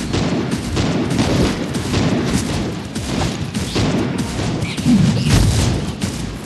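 Rapid bursts of gunfire and booms from a shooter in the video game Van Helsing, loud and close, firing repeatedly in clustered volleys with no talking.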